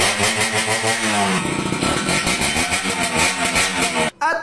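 A Suzuki X4 motorcycle engine running again after six years idle, a loud, close, pulsing idle with a throaty mid-range throb that rises slightly before cutting out sharply near the end.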